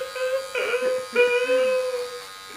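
An electric hair clipper buzzes continuously at close range while cutting hair, a steady droning hum that shifts slightly in pitch as it moves through the hair.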